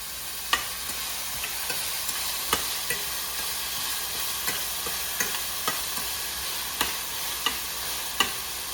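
Red onion and cabbage fry together in a pan. A steady, close sizzle is broken by sharp spoon taps and scrapes every second or so as the mix is stirred.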